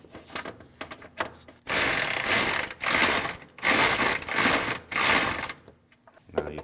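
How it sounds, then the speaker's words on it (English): A ratchet tightens a 10mm bolt on a 2012-2016 Honda CR-V during a windshield washer reservoir replacement, with a few light clicks and then four loud, close bursts of fast ratcheting separated by short pauses. "Now your 10mm bolt that's back here. Tighten that."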